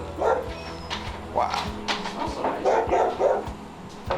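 A dog gives short barks and yips with some whimpering, near and fairly loud, mixed with people talking and moving around in a house.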